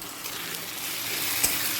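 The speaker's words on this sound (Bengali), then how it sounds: "টমেটোটা পেঁয়াজের সাথে তিরিশ সেকেন্ড ভাজা হয়ে গেছে" Chopped large tomato frying with browned onion in oil in a pan for a chicken recipe with fried spices, a close, steady sizzle with a faint tap near the end.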